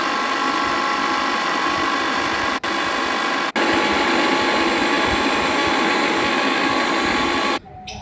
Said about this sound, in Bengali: আর রসুন আর এই আদা এটাকে আমি ভালো করে পেস্ট করে নেব